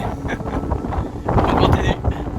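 Gusty wind buffets the microphone outdoors on a hike along a mountain pilgrimage trail in Italy, a rough low rumble that surges and swells midway.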